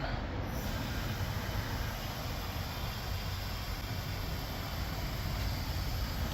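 Air bag suspension on a Ford F-Series truck with a 4-link setup inflates to raise the truck. It gives a steady, even hiss and hum that runs unbroken from start to finish at a moderate level.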